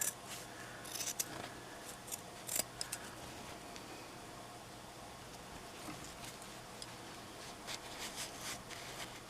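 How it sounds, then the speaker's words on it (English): Scissors trim a quarter-inch fabric seam allowance on a homemade face mask, with a cluster of crisp close snips at first, then fainter intermittent cuts over a steady background hiss. "You now cut about seam allowance of about 1/4 of an inch along these bits"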